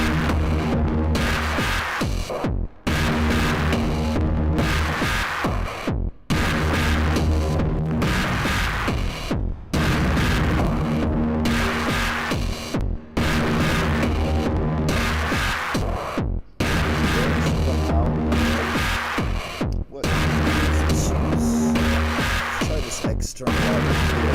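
A pulsing tone from a Soma Pulsar-23 synthesizer with a washed, reverberant tail, repeating in steady bursts separated by brief silent gaps.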